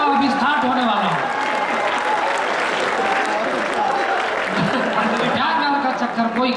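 An audience bursts into loud, sustained applause at an open-air poetry recital at the Red Fort in Delhi, a dense crowd of clapping hands with voices mixed in throughout.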